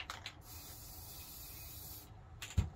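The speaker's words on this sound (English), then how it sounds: "I've just basically spray painted a little bit of white on the board." White spray paint hisses from an aerosol can onto a board while a hardhead duck decoy is being painted, one steady close burst of about two seconds, with a couple of short puffs and a small knock around it.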